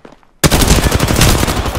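Automatic weapon fire in Apex Legends, a loud close burst of rapid shots beginning abruptly after a brief quiet moment and continuing steadily to the end.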